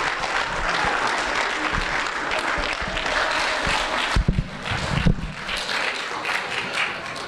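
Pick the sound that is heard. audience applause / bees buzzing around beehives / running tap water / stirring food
audience applause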